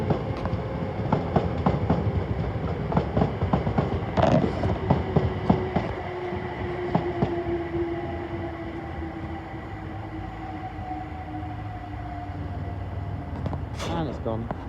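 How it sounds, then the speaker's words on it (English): A London Overground Class 378 electric train rolls past at Primrose Hill heading into Euston, a steady rumble with rhythmic wheel clatter and rising squeals, under occasional talk, fading as it passes. "it's a London Overground 378, spoke too soon. Going into Euston."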